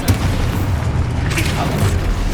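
Expulso spell blast from Hogwarts Legacy, a deep booming explosion rumbling low and loud through the whole short moment, with shouted spell names over it.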